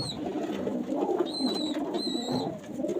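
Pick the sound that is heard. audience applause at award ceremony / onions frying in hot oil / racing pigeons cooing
racing pigeons cooing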